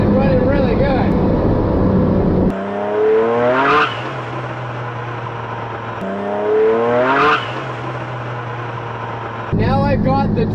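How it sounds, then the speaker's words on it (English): Twin boat engines run while cruising on water, a steady droning hum with two swells where the motors rev up and ease back, fairly close and loud. "Now I've got the dreaded front engine running."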